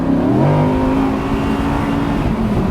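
An Audi R8 Spyder accelerates hard, its engine note climbing in pitch as it revs up, then holding a loud, steady drone close by with no talking.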